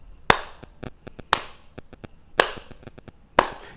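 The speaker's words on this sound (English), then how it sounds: "You hear a slow clap in the audience" A lone person in a television-show audience claps slowly, four sharp, evenly spaced claps about a second apart, each ringing out in a reverberant hall, with quieter faint taps between them and no talking.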